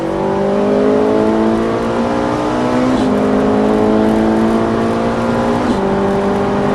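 A Ferrari 458 race car engine at full throttle, loud and close, its pitch climbing steadily with two quick gear shifts along the way.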